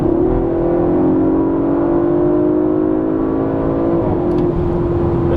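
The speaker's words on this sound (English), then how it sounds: "As soon as I step on that gas" A 2021 Audi RS 5 Sportback with a 2.9-liter twin-turbo engine accelerates in dynamic mode, a loud steady engine drone heard from inside the cabin, with a quick downshift and the note rising again near the end.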